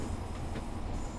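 Class 142 Pacer-style diesel train rumbling along in Train Sim World 4, a steady low continuous engine and rail drone with no breaks across the short stretch.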